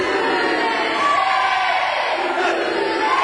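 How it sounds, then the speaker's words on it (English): Crowd at an indoor wrestling show, continuous loud mix of booing and cheering that stays steady throughout, with shouted voices blending into the roar. "the crowd firmly behind BT Gunn, booing Smith, cheering Gunn"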